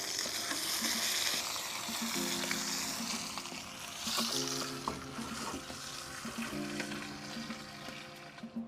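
A pork loin sears in a hot pan before roasting, giving a steady, loud, continuous sizzle and crackle throughout with occasional bursts of spatter, close up and with no talking.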